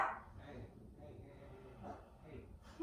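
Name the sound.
puppy barking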